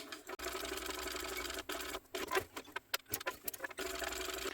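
A sewing machine stitches fabric for a Linda sling crossbody bag, running in steady bursts with brief pauses and restarts, close and fairly loud.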